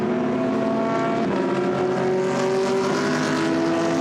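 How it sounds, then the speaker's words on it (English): GT race car engines at Misano circuit during a qualifying race drone steadily at a distance, a continuous rumbling roar with shifting pitch as they lap the far end of the track. "the fantastic sound of the engines as they make their way around the far end of the circuit now"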